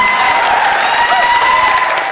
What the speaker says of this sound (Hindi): ताली एक बार जोरदार बजा दीजिए तो मैं शुरू हो जाऊं।